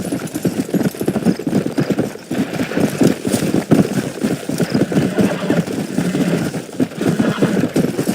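Horse hooves gallop in Red Dead Redemption, a fast, steady clip-clop drumming close and loud throughout, with faint voices underneath.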